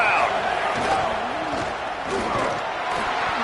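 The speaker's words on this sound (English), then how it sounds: "quiet this crazy, raucous crowd" Crowd noise from a college football video game, a steady roar of a raucous stadium crowd holding loud through the clip before a goal-line play, with faint commentary-like tones underneath.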